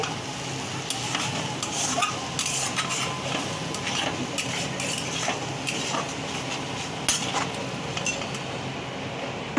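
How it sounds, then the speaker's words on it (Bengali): A spice paste with chili powder and salt is stirred and fried for a fish curry. A soft continuous sizzle runs under repeated scraping and clinking of a utensil against the pan. "লঙ্কা গুঁড়ো নুন সব দিয়ে মশলাটাকে কষানো হচ্ছে"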